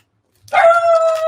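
A dog barks once up close and then carries on in a single sustained, loud, howling whine indoors, with no talking over it.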